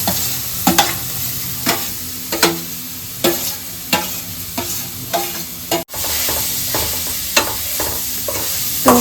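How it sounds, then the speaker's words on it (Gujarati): Grated carrots sizzle and fry in hot ghee while a spoon stirs them in sharp, regular scrapes about once a second, close and loud, with a brief break midway. "તો આ રીતના બધું એમાં ગાજર મિક્સ કરી દઈશું ઘીમાં"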